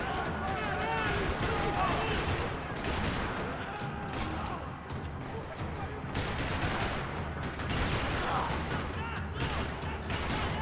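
A Max Payne 3 parking-lot firefight keeps up repeated bursts of rapid gunfire and sharp shots, loud and continuous, with voices shouting between the volleys.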